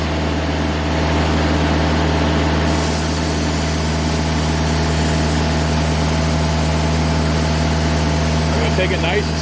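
A diesel engine on a 2020 Timberking sawmill runs loud and steady after being throttled up for the first cut, holding a continuous droning hum with deep low tones for the whole stretch.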